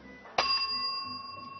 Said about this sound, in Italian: Dammi il campanello, Gennà